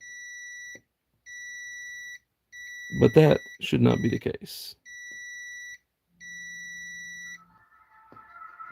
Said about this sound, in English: Sorry, that's my alarm going off.